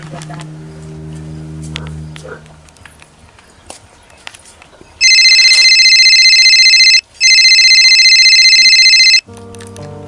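A mobile phone rings loudly in two long bursts separated by a brief gap, following quieter footsteps and low background sounds in a village setting.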